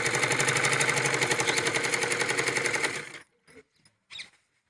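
A sewing machine stitches a full-flare Punjabi Patiala salwar in one loud, rapid, evenly pulsing burst of about three seconds, then stops, leaving a few soft handling clicks.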